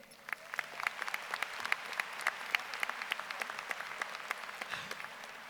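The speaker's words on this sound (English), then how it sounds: "So I would like to ask for a round of applause for all of our graduates here today." A high school graduation audience applauds the graduates, steady clapping with distinct individual claps, moderately distant in a large venue.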